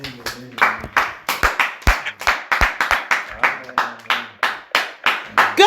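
A church congregation claps rhythmically in unison to acclaim the Lord, sharp regular hand claps close by, with a preacher's voice talking over them.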